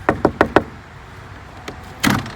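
A solid wooden door on a chicken run extension, with four quick hollow wooden knocks, a small click, then a louder latch rattle and thump as it swings open, close by with no talking.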